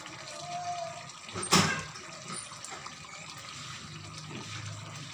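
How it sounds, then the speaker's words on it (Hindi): Fresh lemon juice from a single lemon poured into a pan of chicken karahi gives one short, close liquid splash in a quiet kitchen. "हमने इसके अंदर लेमन का जूस डालना है, फ्रेश लेमन का जूस"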